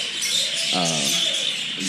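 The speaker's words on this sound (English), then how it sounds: "Just imagine if these birds got loose and started flying around." Birds in an aviary at Heritage Park in Whittier call in short chirps and a brief warbling note, close by over a steady outdoor hiss.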